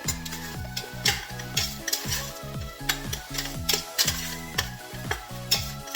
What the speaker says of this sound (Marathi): आता टॅमॅटो देखील आपल्याला मऊ होईपर्यंत परतून घ्यायचे